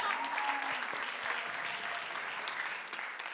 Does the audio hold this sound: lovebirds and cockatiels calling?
no